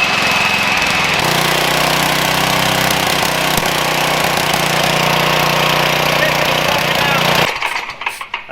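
Homemade apple vacuum driven by a salvaged dump motor, a loud steady droning whir close by that runs for several seconds before abruptly shutting off.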